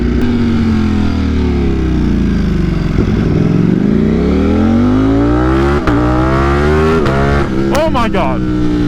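A tuned motorcycle engine, running an aftermarket flash tune, revs and pulls hard and loud up close, its pitch sweeping down then climbing steadily through several rising gear pulls, with sharp shifts near the end and a voice speaking over it.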